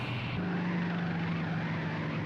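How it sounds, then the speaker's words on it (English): Helicopter in a TV episode, a steady droning engine hum with a sustained low tone, heard alone at a fairly constant level. "that shot of the helicopter exploding"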